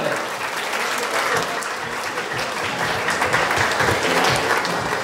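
An audience at a real-estate firm's tenth anniversary lucky draw bursts into sustained, dense applause, loud and continuous for the whole span with a faint crowd murmur underneath.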